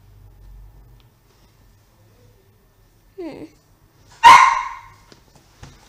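Indoors, a dog gives a brief whine and then a single loud, close bark, with quiet gaps before and after.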